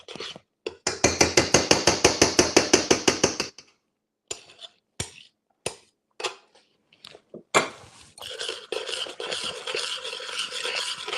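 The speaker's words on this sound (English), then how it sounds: "You got to keep on stirring it up" A spoon scrapes and clinks steadily around a pot of cooking caramel for caramel apples, a fast run of rhythmic strokes, then scattered single knocks and a rougher continuous scraping near the end, close and clear.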